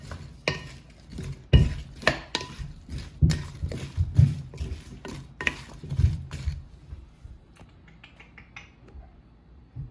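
Chicken pieces and coarsely chopped vegetables, onion among them, are tossed in a bowl or pan, giving a rapid run of clattering, knocking hits for about six seconds before thinning into a few scattered taps.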